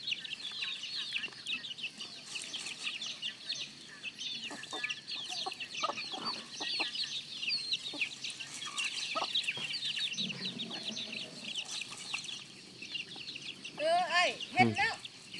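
Farm chickens clucking in a rural hill village, a busy run of short clucks and squawks near and far, with people talking over them at times.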